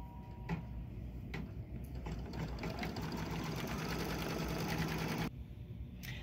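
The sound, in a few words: embroidery sewing machine stitching tack-down of gingerbread man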